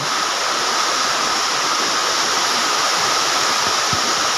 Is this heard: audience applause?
no